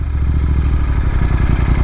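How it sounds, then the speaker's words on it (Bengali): A motorcycle engine idles close by as the bike is brought to a halt on a road through the Dooars valley near Samsing, a steady low rumble throughout. "এখানে আমার বাইকটাকে আমি দাঁড় করাই।"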